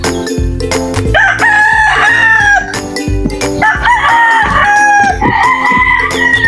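Native chickens in a dirty coop littered with mango leaves, roosters crowing loudly in repeated calls close by, mixed with clucking hens and scattered rustling in between.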